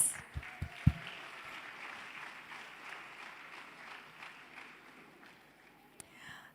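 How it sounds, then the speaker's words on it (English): Applause after the Mission Possible performance at Sri Sathya Sai Baba's 100th birthday celebration, faint and distant rustling clapping from an audience, with a few sharp knocks near the start. "They definitely deserve a thunderous round of applause"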